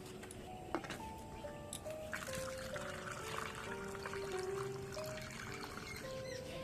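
Homemade lemon-peel dishwashing liquid trickling into a bottle, a soft continuous pour with rising gurgling tones as the bottle fills, quiet and close.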